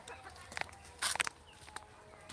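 Backyard chickens in a plastic-tarpaulin enclosure give a few brief, faint clucks, with soft rustling steps around them.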